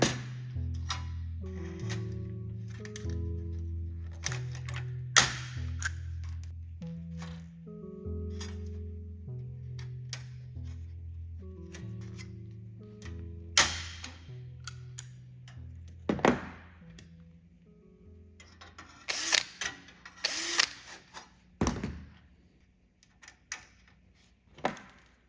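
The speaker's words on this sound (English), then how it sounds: "Just gonna use my little pull riveter here for this." A small hand pull riveter sets 1/8-inch rivets into aircraft nut plates on a RANS S-21 elevator, giving sparse, sharp snaps and clicks at irregular intervals against a quiet tonal background.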